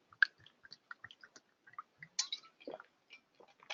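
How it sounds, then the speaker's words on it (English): A person drinking water: soft, close mouth clicks, sips and swallows in sparse, irregular bursts over near silence. "let me have some water"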